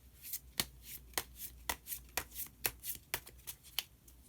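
Tarot cards are shuffled and drawn, a close, quiet series of crisp riffling snaps repeating in a quick, fairly even rhythm with no talking.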